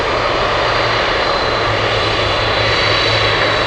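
A fixed-wing aircraft rumbles with a loud, continuous engine roar while crossing the runway at Anchorage airport on a windy day.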